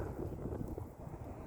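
Gusts of wind buffet an outdoor microphone among spring cherry blossom trees in South Korea, producing a low, rumbling, continuous roar that stays quiet throughout the short stretch.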